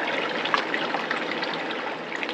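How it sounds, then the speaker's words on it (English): Water flows through a hose into a flat RV water bladder, a steady, fairly loud rushing trickle with no talking. "We got water going in."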